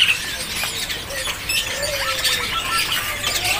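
Zebra doves (perkutut) and other caged birds at a market stall squawk and chirp in short, fairly near calls over a steady, busy background hum, with no talk.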